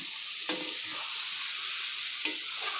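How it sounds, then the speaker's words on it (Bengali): Cabbage with garam masala is stirred in hot ghee, giving a steady soft sizzle broken by two distinct spatula scrapes against the pan, close and without voices. "তো একটুখানি নেড়ে নিলাম"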